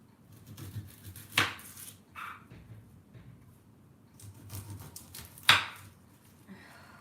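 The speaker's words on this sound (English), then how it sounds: "my least favourite part of doing these meals, is doing the onions. They're so hard to cut" A kitchen knife cutting through onions on a board while preparing home meals, with two sharp, loud chops standing out against quieter scraping and low background noise, no talking.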